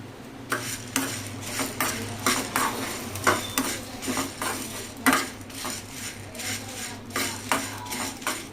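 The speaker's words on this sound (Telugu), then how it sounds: "దీనిలో ఇప్పుడు ఎండుమిర్చి వేసుకోవాలి" Dried red chillies tossed and stirred in a metal pan, a rapid rhythmic series of close scraping clinks of a spoon against the pan over a faint sizzle, with no voices.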